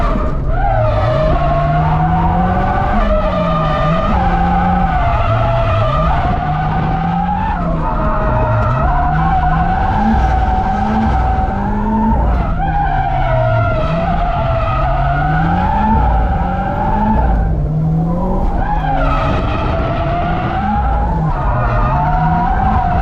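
A Nissan S14 skids through repeated slides during a shakedown run, engine revving and rising and falling while the tires squeal continuously, loud and close throughout with no talking.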